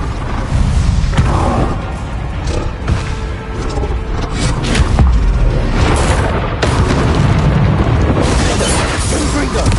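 A Bombarda blasting spell goes off in the Hogwarts Legacy video game, a loud, dense rumbling explosion with layered booms and crashing debris that fills the whole stretch, with voices mixed into the din.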